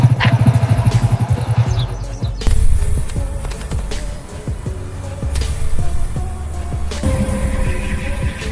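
A motorcycle engine runs on a village road, a rough rhythmic putter that rises briefly and then settles into a steady idle under other noise, with no speech.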